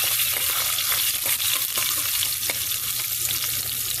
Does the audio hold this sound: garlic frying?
yes